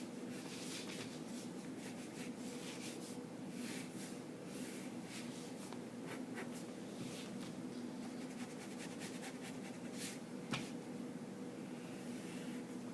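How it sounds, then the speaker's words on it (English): A pen sketches a small top hat on paper, a faint, continuous scratching of strokes of varying length, close by, over a steady hiss of room noise. "So I'm going to draw him a hat."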